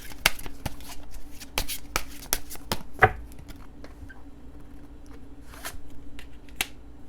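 Tarot cards are shuffled and drawn at close range, producing a series of sharp riffling snaps and slaps separated by quieter pauses, then a few lighter card flicks, with no talk.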